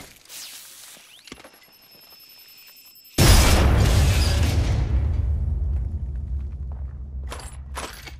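A grenade goes off in Apex Legends with a sudden loud boom after a few quiet seconds, then a long rumbling roar that slowly fades, with faint footsteps and a few later pops.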